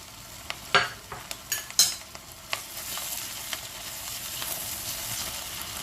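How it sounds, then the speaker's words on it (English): Whole spices, including cumin, coriander seeds, cardamom, cloves and cinnamon, stirred with onions frying in butter, giving a few sharp utensil clinks against the pan over a continuous crackling sizzle. "Give it a nice mix."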